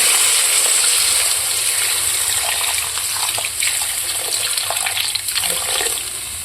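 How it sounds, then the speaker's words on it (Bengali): Water pours into a curry of small parshe fish frying in a pan, making a loud, continuous gushing hiss that stays steady for several seconds before easing slightly at the end, close up with no talk. "ভালো করে কষে নেব এবার দিয়ে দেব জল"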